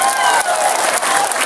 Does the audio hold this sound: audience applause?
yes